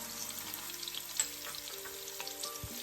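Garlic frying in a pan for a methi matar malai gravy gives a quiet, even sizzle over a low steady hum, with a few faint pops and taps.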